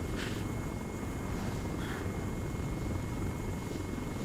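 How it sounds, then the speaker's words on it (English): A helicopter flying in the military video game Arma 3, a steady, loud rotor and engine drone filling the scene throughout with no break, heard on its own without any talk. "Can you hear me okay over the volume of the helicopter?"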